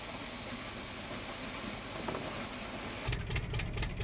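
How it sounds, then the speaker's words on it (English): A John Deere tractor drives a corn sheller through its power takeoff, giving a steady mid-pitched engine drone with machinery rumble that grows louder and heavier near the end. "The sheller is powered by the tractor's power takeoff."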